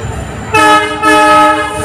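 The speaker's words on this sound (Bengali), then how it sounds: "আমাদের ট্রেন এখন কুচবিহার থেকে ছেড়ে দিল" A train pulls out of Cooch Behar station, sounding two loud, close horn blasts over the rolling rumble of the carriages.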